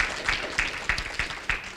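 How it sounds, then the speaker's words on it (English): An audience applauds at a donation event, with steady clapping and a few louder bursts from nearby hands, heard at moderate volume with no speech. "if we can give them another round of applause"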